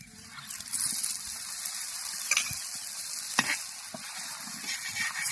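Rice flour roti frying in oil, a steady bright hiss of sizzling held throughout, with a couple of soft clicks and scrapes of a utensil, close and continuous with no voices.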